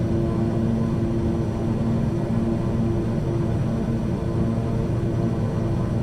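Airliner on final approach in Microsoft Flight Simulator 2020 with gear down and full flaps, throttle near idle; a steady, loud rushing engine and wind drone with low hum, unbroken throughout.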